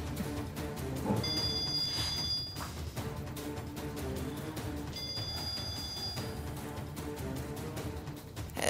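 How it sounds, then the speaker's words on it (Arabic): A telephone rings in a dubbed television drama scene, two bursts of bright trilling bell tones separated by a pause, set against a busy background of music and room noise. "التليفون."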